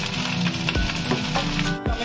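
Two medium-sized chopped tomatoes hit a hot pan and sizzle loudly and close, with a clink of the utensil and stirring scrapes over the steady hiss.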